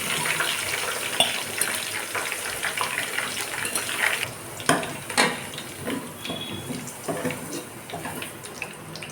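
Fried potatoes for kachchi biryani are lifted out of hot oil, with a busy crackling sizzle and scraping stirs, fading into softer bubbling and clinks of the utensil.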